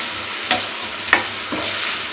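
Chopped tomatoes with salt sautéing in a pan for urundai kuzhambu, with a steady sizzle broken by a few distinct spatula scrapes, close and fairly loud.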